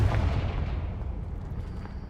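A Confringo spell explosion in the video game Hogwarts Legacy, a single dull boom with a rumbling low-frequency tail that fades over about two seconds.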